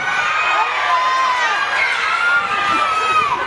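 A crowd of children at a police open day firearms demonstration shouts and screams together, a dense, loud, continuous wash of excited voices pointing out a hidden suspect.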